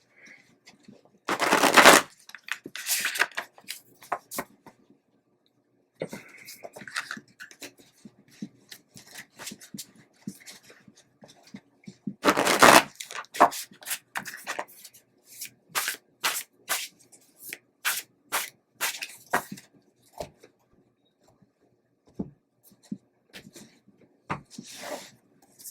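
A deck of tarot cards is shuffled repeatedly in quick riffling bursts, with crisp flutters and taps broken by short pauses, close and alone without talking.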